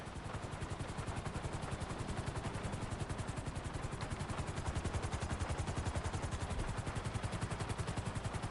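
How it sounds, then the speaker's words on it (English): A helicopter descends onto a helipad in the video game GTA 5, with fast, evenly pulsing rotor chop that is loud and continuous throughout, alone with no talk. "Bring the helicopter down gently onto the helipad."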